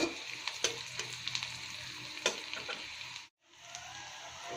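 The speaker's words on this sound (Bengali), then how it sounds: "আমি পেঁয়াজ কুচি তেলে ভালো করে ভাজি করে নিচ্ছি" Chopped onion fries in oil, a continuous close crackling sizzle with light stirring ticks, cutting out briefly before the hiss resumes.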